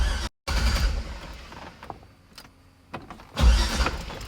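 A C4 Corvette engine cranks without catching, a loud close churning that runs in bursts with a brief cutoff and a quieter gap before cranking resumes.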